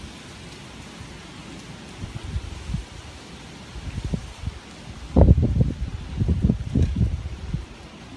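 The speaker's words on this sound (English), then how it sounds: "It's windy, it's rainy, it's spooky." Rain and gusting wind rumble outside, soft at first and then swelling into heavier low bursts of noise.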